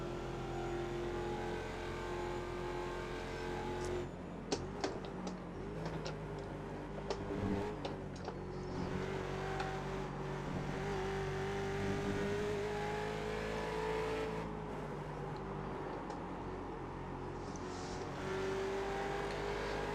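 A Ford Mustang race car in the iRacing simulator, its engine holding a sustained buzzing tone that rises and drops through gear changes, with brief clicks and bursts on shifts.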